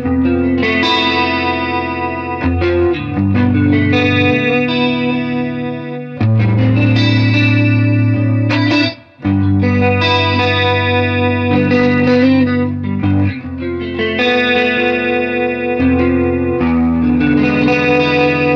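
Electric guitar played through a vintage Nobels CH-D digital stereo chorus pedal, loud shimmering chorused chords and riffs with a gritty edge and lingering wash, continuous apart from one brief pause.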